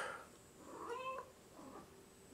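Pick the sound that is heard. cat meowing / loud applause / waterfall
cat meowing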